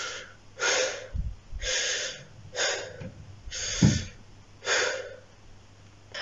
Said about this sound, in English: When we're not singing, we tend to exhale in short bursts like this.